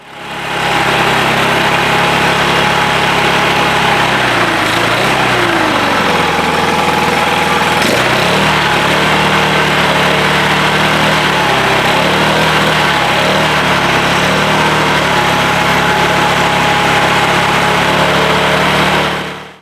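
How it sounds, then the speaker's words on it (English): Gas-powered blower clearing loose polymeric sand off the surface of pavers outdoors; a loud, steady engine drone runs nonstop close by, its pitch dipping briefly as the throttle shifts. "take a blower and kind of blow off this top, a little bit of sand off the top of the pavers"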